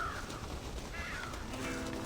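Crows caw in Red Dead Redemption, a few short harsh calls scattered over a soft outdoor ambience, heard at moderate distance with no talking.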